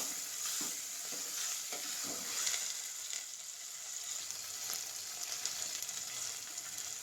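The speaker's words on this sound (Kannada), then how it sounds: "ನಾನೀಗ ಟೊಮೊಟೊನ ಸೇರಿಸ್ತಾ ಇದ್ದೀನಿ. ಟೊಮೊಟೊನೂ ಕೂಡ ಸ್ವಲ್ಪ ಚೆನ್ನಾಗಿ ಫ್ರೈ ಆಗಲಿ." Onion and tomato fry in oil in a pan, a constant close sizzle with soft crackles and occasional light stirring taps beneath it; no talking.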